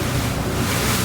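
River water surging and washing over the bank alongside a fishing boat, with steady heavy wind buffeting the microphone, a continuous loud rushing roar without a break.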